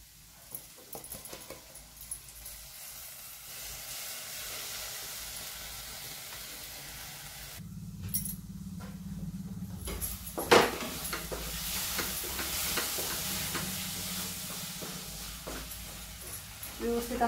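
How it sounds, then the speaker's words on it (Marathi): Gravy with Kashmiri chili powder sautés in hot oil for a bhindi (okra) masala, a steady soft sizzle and hiss that swells louder partway through and continues with faint stirring noises. "व्यवस्थित अगदी परतून घ्यायचे आहे तेलामध्ये"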